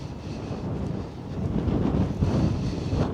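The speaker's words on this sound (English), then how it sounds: "Now there is a breeze and we are walking down the side of the river" Steady low wind rumble buffets the microphone beside the River Trent at Gainsborough, gusting stronger midway, with no voices.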